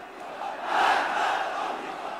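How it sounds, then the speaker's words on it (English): A huge Iranian crowd chants in unison, a massed roar of voices that swells to a peak and then holds at a steady, distant-sounding level. "A huge Iranian crowd chants, "Death to America.""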